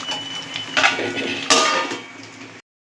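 Metal lid set over a curry pot on a gas stove turned low, two clattering clanks of metal against metal around the middle of the moment, then quiet; no talking.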